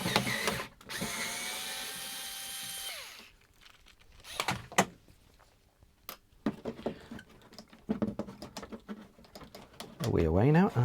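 Screws are driven out of the back cover of a 1960 Philips 17TG100U television with a whirring power driver, two short close bursts separated by handling clatter, with someone talking at points.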